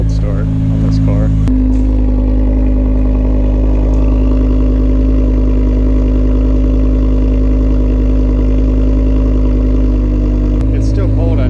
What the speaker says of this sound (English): Cold start on this car.